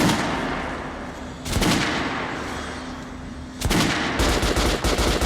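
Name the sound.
gunfire at training dummies, video game Metro: Last Light Redux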